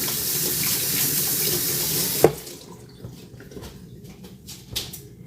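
Tap water runs steadily into a kitchen sink as greasy hands are washed after kneading biscuit dough, a broad hiss that stops abruptly with a clunk, followed by faint drips and small splashes.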